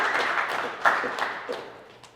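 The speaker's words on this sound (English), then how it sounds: "Give them a round of applause to the internship programs." A short burst of audience applause at a company all-team meeting, dense clapping that swells briefly and then fades out within a couple of seconds, fairly close and without voices over it.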